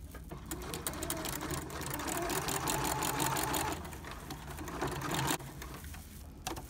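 Sewing machine stitching fabric in a home sewing setup, a fast steady mechanical chatter of the needle running continuously for several seconds, pausing briefly, then resuming at close range.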